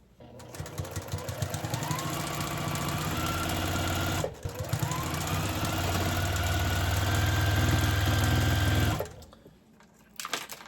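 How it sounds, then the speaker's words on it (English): A domestic sewing machine stitching fabric pieces together in two long continuous runs of fast mechanical whirring, with a brief pause between them and a stop near the end, loud and close with no talking. "I'm going to take this back and sew this on."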